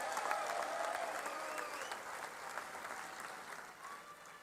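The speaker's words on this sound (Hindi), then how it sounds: "एक बार ताली बजाकर इनका स्वागत करिए।" Sustained audience applause at a Maharashtra political rally, dense steady clapping from a large crowd that stays loud for several seconds and eases only slightly toward the end, with no clear talk over it.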